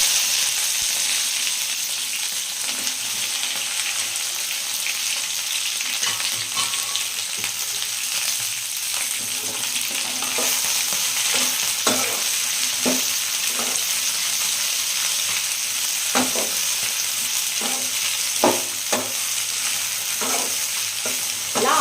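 Chopped okra fries in oil with a continuous loud sizzle, while a utensil stirs and scrapes the pan in irregular knocks and clatters throughout, with no talking.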